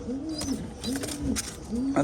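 Soft, low pigeon coos repeat three times in a rolling rhythm, close by, with faint rustling and bird chatter in the background.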